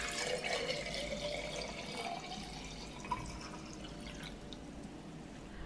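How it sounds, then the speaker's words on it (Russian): Water poured into a one-liter glass jar over a sugar mixture for making kvass, a quiet steady splashing and trickling, close by, with a single small clink partway through and no talking. "Заливаем литром воды."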